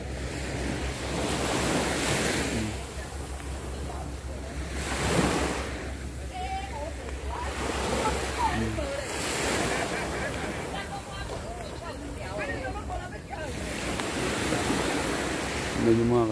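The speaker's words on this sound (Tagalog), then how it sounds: "Nasa dagat po tayo." Ocean waves and wind out at sea off Taiwan, heard from aboard a working boat as a steady broadband wash with gusty swells. A voice talks faintly at times over the continuous surf and wind noise.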